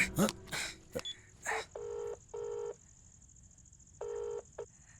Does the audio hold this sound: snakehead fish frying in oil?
no